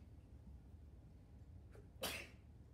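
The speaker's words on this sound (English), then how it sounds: "Bless you." A single sharp sneeze bursts out near the end of a quiet, faint stretch, preceded by a soft intake of breath.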